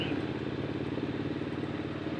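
A Triumph Scrambler 1200 XC motorcycle idles nearby with a steady, throbbing low rumble and even pulsing beat, holding constant throughout with no voices.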